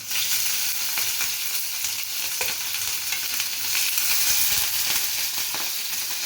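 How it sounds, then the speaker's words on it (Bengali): Steady, dense sizzling of chopped garlic frying in hot oil, with occasional sharper crackles and a stir or two, close and fairly loud, no talking. "তেলটা গরম হয়ে গেছে। এখন আমি এর মধ্যে ঢালছি প্রথমে রসুন কুচি"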